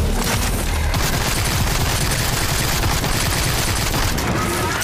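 Continuous loud gunfire roars in the video game Sker Ritual, a dense, unbroken barrage of shots and booms that fills the whole stretch with no pauses.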